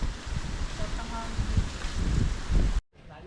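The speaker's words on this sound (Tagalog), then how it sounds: "Oh, grabe ang hangin." Strong gusts out at sea rumble against the microphone in uneven low bursts, then drop off abruptly near the end.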